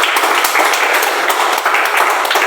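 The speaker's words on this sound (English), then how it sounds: "So one huge round of applause to all the audience." Audience at a Toastmasters meeting clapping loudly and steadily, a close, dense patter of hands with no voices over it.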